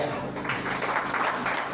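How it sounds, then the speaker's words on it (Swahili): Steady clapping from a church congregation fills the short stretch, continuous and fairly loud with no voices standing out. "Wapi makofi."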